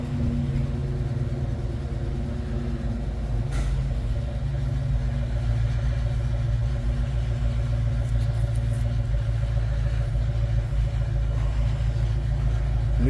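A 1994 Mustang GT V8 with long-tube headers, an X-pipe and Widowmaker 10 mufflers idles in a deep, steady exhaust rumble, loud and close, with a low throbbing lope and no talk over it.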